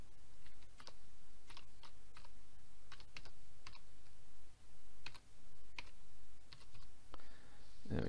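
Someone types a short directory name on a computer keyboard in an FTP setup, with irregular bursts of close, crisp key clicks over a steady background hum.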